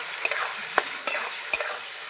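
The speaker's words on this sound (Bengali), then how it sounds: "লবণ দেব দিয়ে ভালো করে নাড়াচাড়া করে নেব" Spoon stirring a spicy masala of live crab with turmeric and salt in a frying pan, a steady sizzle broken by several sharp scrapes and clinks of the spoon, close and alone.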